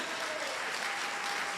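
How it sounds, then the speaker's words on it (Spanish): A short burst of dense, steady applause from a church congregation, many hands clapping together with no voices. "Denle un aplauso al Señor"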